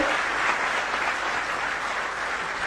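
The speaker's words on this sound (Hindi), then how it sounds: "मैं चाहूंगी पूरा सदन एक बार जोरदार तालियों से अभिनंदन करे।" An audience applauds loudly and steadily at a Delhi education event launching a digital knowledge hub, with dense, sustained clapping throughout and no voices over it.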